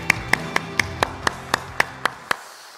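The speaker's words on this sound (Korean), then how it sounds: "하나님께 영광의 박수 한번 올려드리겠습니다." A church congregation at a Sunday worship service claps in unison, about ten sharp, evenly spaced claps in a steady rhythm that then stop, with no talking over them.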